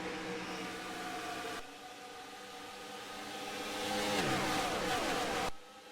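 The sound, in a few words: cars roaring past in a racing sim video game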